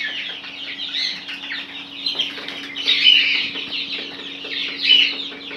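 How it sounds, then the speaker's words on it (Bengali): Fayoumi, Bahama and Sarail chickens cluck and call in a farm setting, a close, continuous chatter of several birds with a few louder squawks and some wing flapping. "আজকে আপনাদেরকে আমি দেখাবো ফার্মি মুরগি এবং বাহামা এবং সরাইল মুরগি।"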